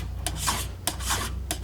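A metal file rasping across a worn chainsaw bar and catching on a pronounced lip or burr, three distinct rough strokes, close and alone.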